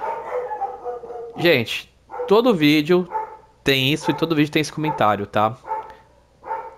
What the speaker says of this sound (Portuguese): o meu cachorro não começar a latir do fundo